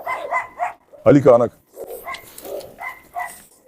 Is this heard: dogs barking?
yes